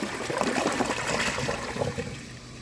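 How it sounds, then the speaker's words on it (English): A 2014 Vilbomex toilet flushing with its original flapper, a close rushing and gurgling of water that tapers off toward the end, with no talk. "So let's give this a flush and see how it does on tests."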